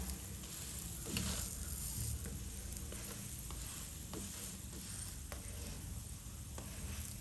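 Keema mince is stirred in a hot oiled pan: a steady close sizzle with soft scraping and shuffling of the meat, continuous and even throughout.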